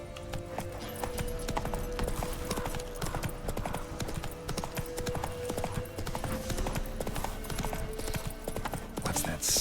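Roach the horse gallops in The Witcher 3, with a quick, even clip-clop of hooves running throughout at steady loudness, set under game music and ambient sound, with occasional brief voices.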